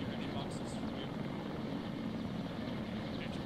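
Helicopter in the military video game Arma 3, a steady loud rotor and engine drone filling the scene under radio-style squad talk.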